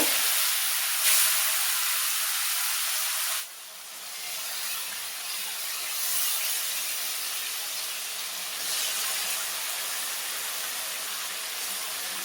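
Spiced stingray fish pieces, rubbed with black pepper, sizzle in a hot pan with a steady hiss that surges as each piece goes in and then holds evenly.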